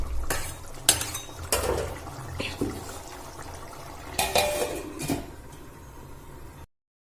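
Food being stirred in a cooking pot for a spicy Bengali potato and egg curry, with repeated scrapes and clinks of a utensil against the pot at close range and no talking.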